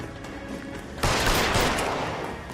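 A burst of gunfire from the detective video game L.A. Noire erupts suddenly partway through, loud sustained shots continuing over quieter game sound and background music before it.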